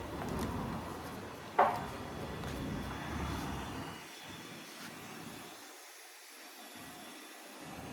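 Compressed air hisses steadily out of a 2001 Porsche 911 engine's intake during a leak-down test, a broad breathy rush that fades after a sharp click about halfway through, leaving a fainter, uneven hiss.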